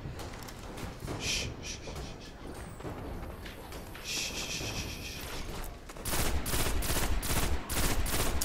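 Gunfire in the shooter game Destiny, bursts of shots popping among game effects and ambience, growing louder and denser near the end with rapid machine gun fire.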